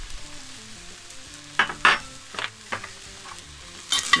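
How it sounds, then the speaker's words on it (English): Bacon jam in a pan on a Weber Mastertouch charcoal grill gets stirred: a soft sizzle underneath, sharp scrapes and clinks of the utensil against the pan coming in a few bursts, and a faint melodic tone running through. "Give it a nice stir."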